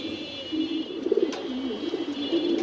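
Pigeons coo continuously at a pigeon farm in Mirpur 13, a low, throaty, rolling murmur from several birds nearby, with a steady high hiss behind it and no talking.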